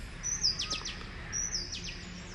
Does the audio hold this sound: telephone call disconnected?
no